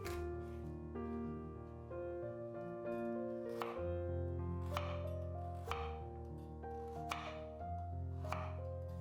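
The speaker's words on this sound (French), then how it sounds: "Vous pouvez faire des morceaux plus ou moins gros, je préfère les faire de taille moyenne." Vegetables for a vegan blanquette are cut into medium pieces on a board, giving scattered knife taps and thuds under steady background music, with no talking.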